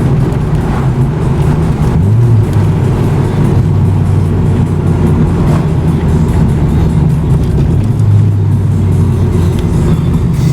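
A 1991 Toyota Celica GT-R engine roars loudly and continuously up close, its deep rumble rising in pitch briefly as it revs.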